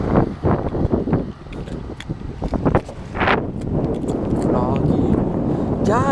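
Gusty wind buffets the microphone with rumbling bursts while a person talks nearby, riding a bike outdoors.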